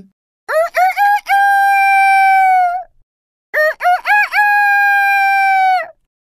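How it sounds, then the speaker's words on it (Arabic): A rooster crows loudly and close by, twice, each call starting with sharp broken notes and ending in a long drawn-out cry. "انظر يا سروان إلى هذا الديك الجميل، إنه يمشي كالأمير، وصوته جميل أيضاً."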